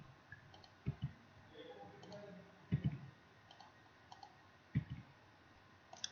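Keyboard keys are pressed while typing in MS Word, giving three distinct clusters of sharp clicks a couple of seconds apart. They are quiet and close, with faint softer taps in between.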